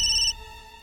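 A phone ringtone plays at close range, a short bright electronic tone that cuts off after a moment and leaves a fading ringing tail, with no voices.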